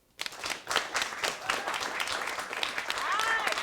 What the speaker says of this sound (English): Now clap your hands if you'd actually like to see it.